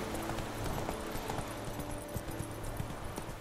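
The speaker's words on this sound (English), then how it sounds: "Let's go, horsey." Horse hooves clip-clop steadily in The Witcher 3: Wild Hunt, a rhythmic gallop of close, even footfalls carrying on throughout under game ambience.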